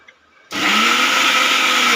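A kitchen mixer grinder starts abruptly after a brief near-silence, then runs at a steady loud whir while blending ingredients for a cooking recipe.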